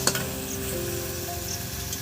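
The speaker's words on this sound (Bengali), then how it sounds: "এক্সট্রা তেল বলেছিলাম, এর মধ্যে দিয়ে দিচ্ছি দেখুন" Mutton in a clay handi pot sizzles loudly and steadily as extra oil is added, a constant close frying hiss with a couple of faint clicks at the start.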